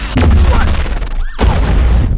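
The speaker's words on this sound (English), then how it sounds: "now that's a firework!" A firework bursts with a loud boom, followed by a second sharp blast a moment later, crackling over excited outdoor commotion.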